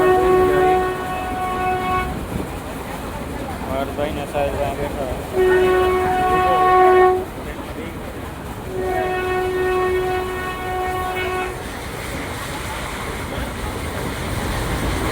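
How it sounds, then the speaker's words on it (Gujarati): A train arrives at Upleta station in Gujarat with a low rumble, its horn sounding in several long blasts, while people talk nearby. "આ ટ્રેન આવી ગઈ"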